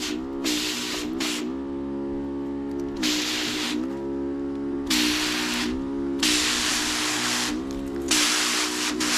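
Pesticide sprayer hissing over string bean plants in a field, in repeated bursts of broadband spray separated by short pauses, with a steady engine-like hum running underneath throughout.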